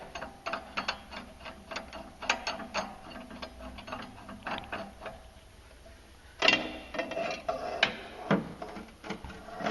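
A clutch puller is threaded onto the clutch of a Polaris RZR, giving a run of close, repeated ratcheting clicks. Short pauses break the clicking, and a louder clack and rattle comes near the end.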